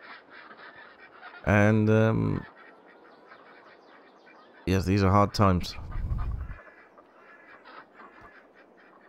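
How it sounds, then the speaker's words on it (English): Duck quacking in Farming Simulator 22, set in a rural Poland map: two loud bursts of quacking calls close by, separated by a quieter stretch, with a voice speaking in between. "Hello, duck."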